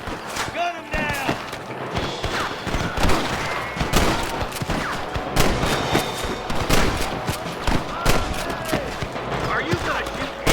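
Rapid gunfire from a video game shootout against cattle rustlers, with repeated sharp shots and thuds spread throughout, mixed with shouting voices and other game sounds.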